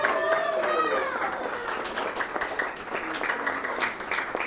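Audience applause fills the room at a steady level, mixed with cheering voices and children's chatter on top.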